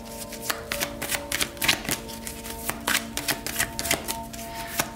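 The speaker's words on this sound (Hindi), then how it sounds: "मैं आपके लिए थोड़ी सी और कार्ड्स लेना चाहूँगी" Tarot cards are shuffled and drawn up close, giving rapid flicking and riffling snaps in uneven bursts over a faint steady tonal hum.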